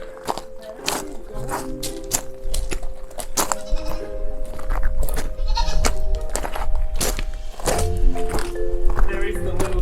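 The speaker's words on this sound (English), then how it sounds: "the goat is showing us the way" A goat bleats repeatedly on a rocky hiking trail in a Tenerife gorge near the Los Gigantes cliffs, its calls nearby and mixed with footsteps, crunching and people talking.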